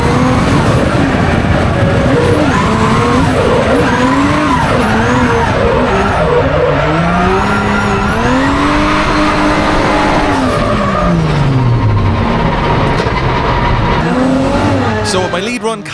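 Drift car on a fast course, driven with clutch kicks on corner entry instead of the handbrake: a loud, continuous engine howl rising and falling with gear changes, layered with sustained tire squeal and skidding across the whole run.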